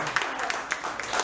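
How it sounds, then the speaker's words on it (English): A comedy show audience claps in scattered, uneven bursts, with sharp individual claps poking through a steady murmur of crowd noise. "clap it up for John Lewis"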